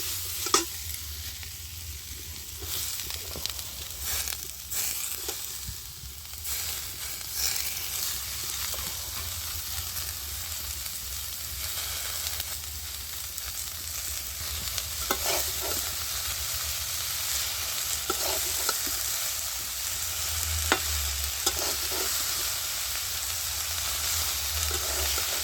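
Cabbage curry being stir-fried in a pan, a steady hissing sizzle close by with intermittent spatula scrapes and knocks over about twenty-five seconds.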